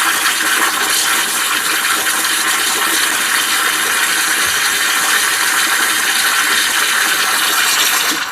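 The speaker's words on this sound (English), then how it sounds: "let's steam for about I would say maybe 10 seconds" Gemilai 3006Z espresso machine steam wand blasting open air, a loud continuous hissing roar held for about eight seconds before cutting off at the end.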